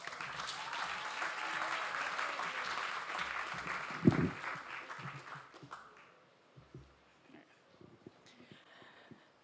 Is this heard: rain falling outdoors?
no